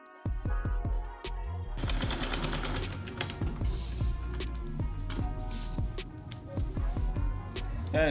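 Sewing machine stitching along the small placket of a senator top, a rapid mechanical chatter broken by short stops and restarts, close and steady for most of the stretch.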